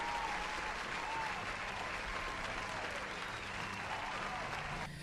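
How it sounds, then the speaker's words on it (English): Audience applause at a Sunday night homebrew tabletop gaming hangout, steady continuous clapping from a crowd, fairly soft and distant, sustained for several seconds. "let's give a round of applause to Jackie."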